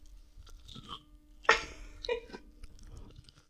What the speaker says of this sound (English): My guy watched me chew it 4 times and said that was an olive